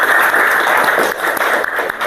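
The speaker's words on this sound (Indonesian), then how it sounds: "Tepuk tangan untuk kelompok." Classroom applause for a student group: a dense, steady wash of many hands clapping together, loud and continuous for a couple of seconds with no talk over it.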